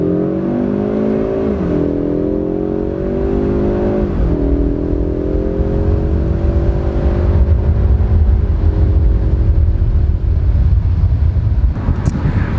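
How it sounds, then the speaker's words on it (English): A 2019 Ford Mustang EcoBoost pulls hard from first gear, its engine droning up in pitch, dropping briefly at two quick gear changes, then climbing again close and loud with no talking. "that was a little pull in the EcoBoost"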